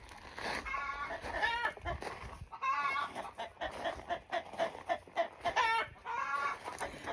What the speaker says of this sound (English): in the background, you can hear, I think we're coming to the hen house